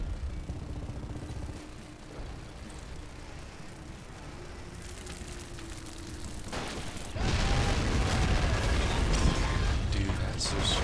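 Tank taking a hit in the Men of War war game: steady mechanical battle rumble and scattered bursts, then a sudden loud, dense blast-like surge that stays heavy through the last few seconds.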